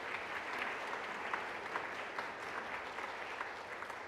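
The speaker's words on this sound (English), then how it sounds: "Could we give her a round of applause?" Steady applause from an audience honoring a woman organizer at an event about child sex trafficking in the Tampa Bay area, a dense wash of many hands clapping evenly for about four seconds with no talking.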